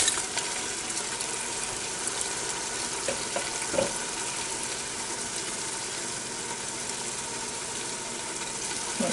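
Vegetables tipped into a hot Ninja Foodi Deluxe pot for a one-pot spaghetti meal give a steady, close sizzle and crackle throughout, with a few soft knocks and clatters as they land.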